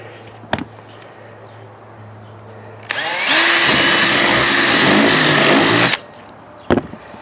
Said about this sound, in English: I'm going to take the drill and go in the corner